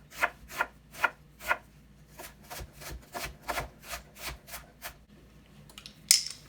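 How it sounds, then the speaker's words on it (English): A knife chops onion on a cutting board, producing quiet, crisp strikes in quick bursts of several evenly spaced chops, with a sharper click near the end. "And I'm also just going to chop some onion."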